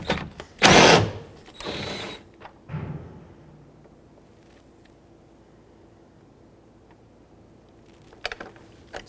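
A power tool whirs in short loud bursts while removing the mirror bolts on a 2008-2010 Ford F-250, followed by a long quiet stretch with faint handling noises.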